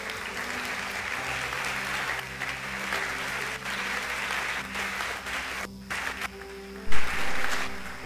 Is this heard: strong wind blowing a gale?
no